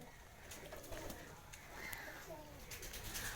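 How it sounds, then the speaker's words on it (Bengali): Imported pigeons in a pigeon loft coo softly and steadily, a faint low murmur of several birds overlapping across the whole stretch with no talking. "আজকে তোমাদের জন্য নিয়ে চলে এলাম নতুন কিছু কবুতর কালেকশন, যা বাইরে থেকে আনা হচ্ছে"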